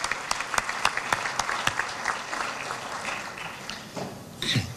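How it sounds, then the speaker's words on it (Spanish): An audience at an academic award ceremony at La Molina claps in a steady burst of applause that fades out after several seconds, with a voice beginning to speak at the end. "El aplauso para el doctor Augusto Sotomayor"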